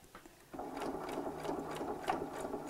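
A sewing machine stitches a chenille clutch bag near its metal clasp, starting after a brief pause and then running in a rapid, steady mechanical whir with faint rhythmic ticks, close up and alone.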